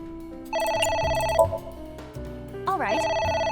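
Telephone ringing in the video game AI: The Somnium Files, a synthetic tonal ring that repeats in short bursts with a bass beat and a sweeping effect under it, loud and close.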